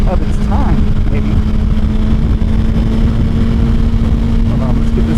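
A 955cc triple-cylinder sport motorcycle engine drones steadily and loud while riding, a constant hum with wind roar throughout, and a rider's voice talks over it.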